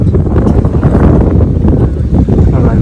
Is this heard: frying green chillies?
no